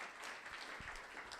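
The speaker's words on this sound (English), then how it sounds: "A really big round of applause for our lovely" An audience claps for panelists at an evening talk event, a dense, steady burst of applause from many hands, fairly faint and brief.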